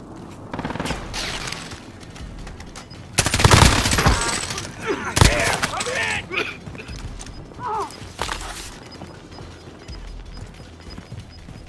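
An enemy's gun fires in a video game battle: several sharp, loud bursts of rapid shots ring out in clusters, with mechanical clatter between them and voice lines spoken over the action.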